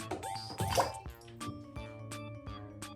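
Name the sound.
toy dinosaurs Giganotosaurus and Baryonyx dropped into water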